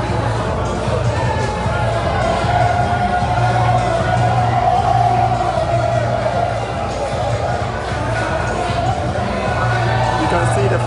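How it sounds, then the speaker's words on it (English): Boxing fans at a live bout make a steady crowd roar and hubbub throughout, with a commentator talking over the noise. "You can see the fans cheering"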